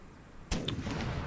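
A single loud, abrupt cannon blast from a naval battle in the Empire Total War strategy game booms close by, followed by a rumbling tail and faint scattered cracks.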